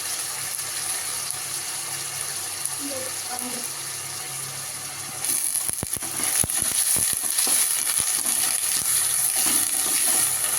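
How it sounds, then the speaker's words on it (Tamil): Onion and capsicum frying in a pan give a steady broadband sizzle that grows louder midway, with a few sharp stirring clicks and a faint voice underneath. "வெங்காயம், கேப்சிகம் போட்டு நல்லா ஃப்ரை பண்ண முடியாதா? ஃப்ரை பண்ணணும்"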